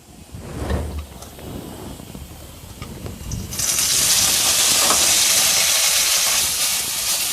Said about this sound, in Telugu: ఇదే మూకుట్లో కొంచెం నూనె వేసుకుని ఇప్పుడు పుదీనా వేసేద్దామండి